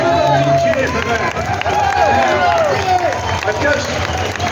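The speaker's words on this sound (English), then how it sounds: "Give them a big cheer for that." A rally crowd in Adelaide cheers and applauds loudly and continuously, with claps and voices blending into a steady roar over several seconds.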